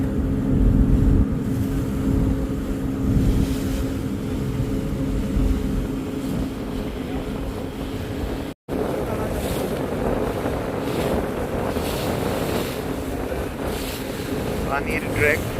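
A sunken-deck passenger launch cruising on the Meghna river, steady loud engine drone with rushing water and wind buffeting the microphone, one brief dropout midway.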